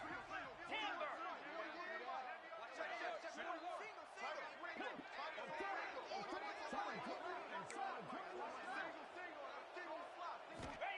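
Dense roaring stadium crowd in the college football video game NCAA 26, a steady loud wall of cheering and babble with sharp claps and shouts punching through throughout.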